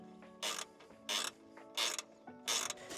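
A spanner tightening bracket bolts during a Suzuki Jimny air intake install: four short ratcheting bursts at a steady pace, close and fairly quiet, with no voices.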